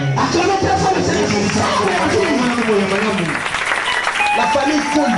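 Church congregation at a spiritual seminar applauding the Lord, a sustained mass of clapping and crowd noise with voices and shouting mixed through it.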